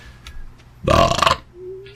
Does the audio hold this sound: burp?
yes